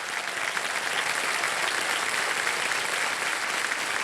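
A TV game show studio audience at KBC claps for a contestant, a thick, even roar of many hands that stays loud and steady throughout with no talking.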